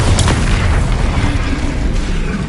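A Bombarda spell blast in Hogwarts Legacy, a loud deep boom with a heavy low rumble that rolls on and slowly fades across the stretch.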